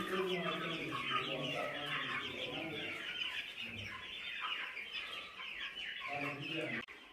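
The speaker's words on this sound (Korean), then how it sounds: "예, 계란 넣는 닭인데" Flock of egg-laying hens with trimmed beaks clucking together in a dense, steady chatter of overlapping calls, moderately close and sustained throughout, with a short break near the end.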